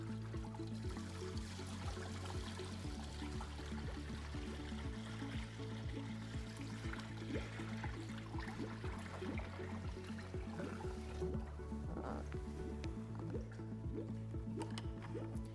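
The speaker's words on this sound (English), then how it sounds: "we're going to pour another" Water from a bucket pours into the freezing cylinder of an Electro Freeze CS-700 soft-serve machine during flushing, a faint, continuous liquid trickle and gurgle over a low, steady machine hum.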